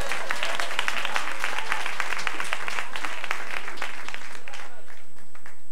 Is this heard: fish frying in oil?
no